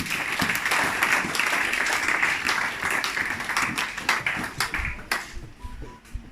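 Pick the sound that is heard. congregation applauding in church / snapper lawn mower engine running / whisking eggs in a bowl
congregation applauding in church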